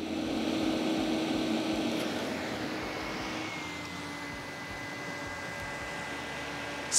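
A KDY KMK-330 portable camping fan with a built-in lantern runs with a steady, close whirring hum and a faint motor whine, holding an even level throughout with no talking.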